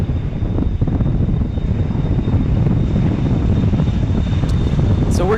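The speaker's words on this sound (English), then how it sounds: "Challenger 350 taking off" A Challenger 350 business jet takes off at Dallas Love Field in a strong crosswind, a steady, loud, broadband engine roar with deep rumble that holds evenly throughout, heard outdoors from the field's edge without any talking.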